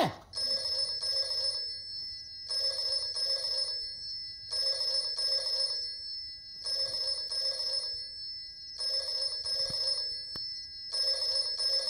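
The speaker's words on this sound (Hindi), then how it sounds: "तू टेलीफोन की घंटी बजा रहा है" An old telephone bell rings loudly in repeated double bursts, a steady ring-ring pattern continuing with short pauses between each ring.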